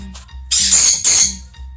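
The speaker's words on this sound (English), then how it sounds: "We're playing with birds." Parrots in an aviary let out two loud, harsh squawks close by over a low steady background hum.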